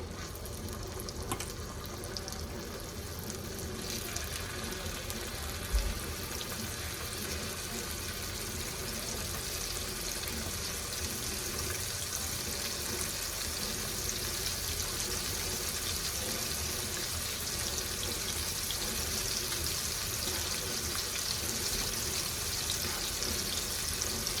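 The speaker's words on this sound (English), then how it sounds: "I'm gonna start adding my chicken pieces. You can hear them sizzling just a little bit." Continuous steady sizzling hiss of chicken pieces frying in a pan for chicken cacciatore, even in level throughout with no talking.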